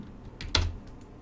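Keys on a computer keyboard are pressed for a copy shortcut, giving a short cluster of close, crisp clicks with one louder tap in the middle, alone in a quiet room.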